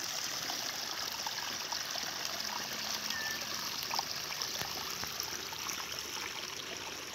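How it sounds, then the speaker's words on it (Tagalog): Free-flowing water from an unpumped source beside rice paddies in the countryside: a steady, continuous stream trickling and babbling nearby with no engine noise, even in level throughout and heard alone. "Basta nag-free-flow lang yung mga tubig."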